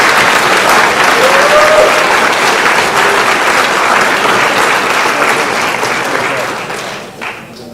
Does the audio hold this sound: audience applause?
yes